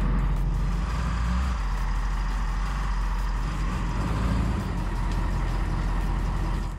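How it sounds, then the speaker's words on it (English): A truck's engine rumbles steadily up close as it rolls slowly onto homemade wooden ramps, a constant low drone with no talk. "the truck will roll up and stop at that block"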